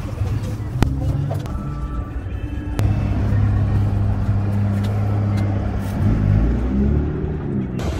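A city bus pulls up to a stop, its heavy engine rumbling steadily at close range with a brief hiss and clunk, while a voice talks faintly in the background.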